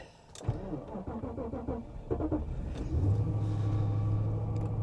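A Mercedes-Benz car engine cranks hard through a series of rapid starter turns, stumbles, then catches and settles into a steady low idle, loud and close.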